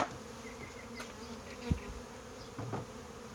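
Bees buzz faintly around a hive being split outdoors, a soft steady drone with a few brief nearby knocks and handling noises.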